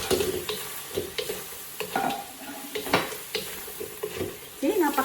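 Teriyaki sauce sizzles and bubbles in a pan as it caramelizes, with stirring scrapes and clinks breaking in over a steady crackling fry; a voice speaks faintly underneath.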